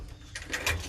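Pigeons coo softly and low amid a murmur of background noise, brief and indistinct, with no one speaking.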